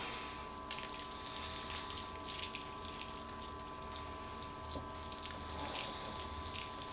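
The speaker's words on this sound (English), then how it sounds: "I'm going to let it sit with just this amount of water that I'm pouring on it right now" Water poured from a partially full jug onto coco substrate indoors, a faint steady splashing trickle over a low electrical hum that runs continuously.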